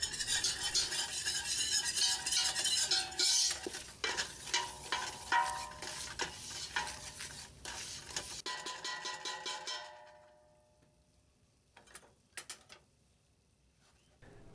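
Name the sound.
stirring flour into melted butter to cook a roux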